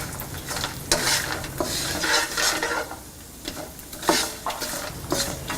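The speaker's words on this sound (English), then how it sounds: "add raisins, cashew nuts, peanuts and sauté for 2 minutes" Raisins, cashew nuts and peanuts sauté in a pan for coconut lemon rice, with repeated scraping stirs of a utensil against the pan over a light sizzle, close and without voices.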